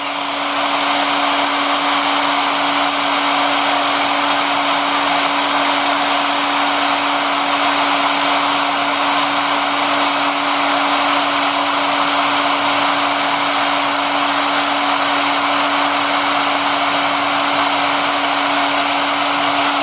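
Maslow CNC router running steadily while cutting, its motor giving a loud, continuous whine with a constant pitched tone throughout and no talk.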